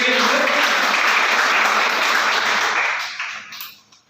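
An audience of a school seminar in Mathura claps together loudly and steadily, then the applause thins and fades out toward the end.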